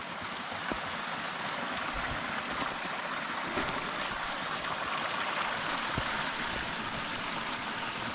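A river rushes steadily near Davidson's Linn waterfall in winter, a continuous broad hiss of flowing water with no pauses, heard up close and fairly loud.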